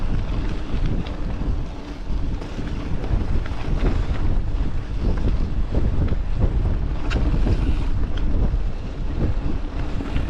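Cold northerly wind blows steadily on an exposed walk in the Holme Valley near reservoirs, buffeting the microphone with a continuous loud rumbling roar and gusty rushes throughout, no voices.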